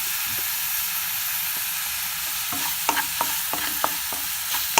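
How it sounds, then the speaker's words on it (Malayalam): Onions and tomatoes sautéing in a pan, a continuous bright frying hiss under repeated short spatula scrapes that grow busier toward the end, with no talking. "ഇത് രണ്ടും കൂടി നല്ലോണം വഴറ്റാം"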